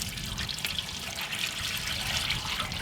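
Pure coconut oil pours into an urli cooking pan, a soft continuous trickling hiss of liquid running steadily at a close, quiet level.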